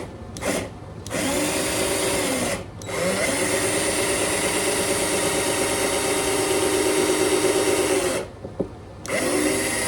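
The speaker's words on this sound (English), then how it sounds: "always makes you nervous drilling a hole in" A power drill bores a hole in a 1943 Martin D18 acoustic guitar during a neck reset, running in long steady whining bursts with two brief stops, loud and close, with no speech.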